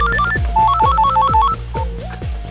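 A telephone on speakerphone plays a loud, electronic melodic ringtone. A bright tune repeats over a thumping low pulse for several cycles in a comedy scene.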